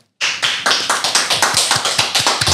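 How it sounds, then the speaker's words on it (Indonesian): A single person clapping hands on cue, a dozen sharp, close claps in a quick, even rhythm starting abruptly after silence. "Lian, tepuk tangan."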